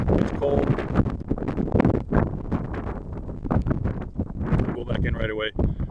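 Strong, cold wind roars across a microphone outdoors in deep snow on a bitterly cold day, a dense, continuous buffeting rumble with gusts rising and falling, and a muffled voice underneath.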